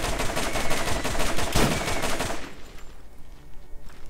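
Rapid automatic gunfire from the video game Borderlands, loud and dense bursts with a sharp shot near the middle, then tapering to quieter scattered sounds.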